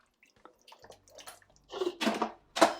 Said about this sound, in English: So just give this all a good mix now.